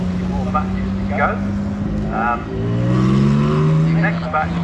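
Race cars coming back down the Shelsley Walsh hill climb, engines revving and shifting with rising and falling tones as they pass one after another, with a commentator talking over them.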